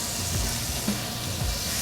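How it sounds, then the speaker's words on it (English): Chicken sizzles in hot olive oil and butter, a steady close crackling hiss that fills the whole moment with small pops and no talking. "when that sizzle means our oil is hot"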